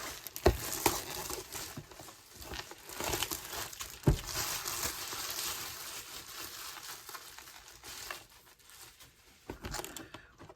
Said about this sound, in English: Okay, so we're getting this plastic off.